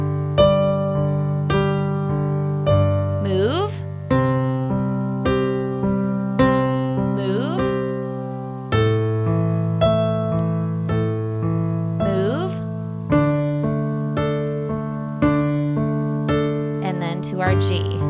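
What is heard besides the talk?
piano playing chord progression with left hand pattern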